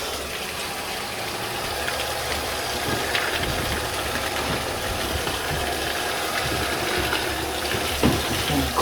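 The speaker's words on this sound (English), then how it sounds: "we're gonna fill it with the water" Warm water pouring into a plugged-in portable washing machine, a continuous rushing wash with a low motor hum underneath, steady and close throughout.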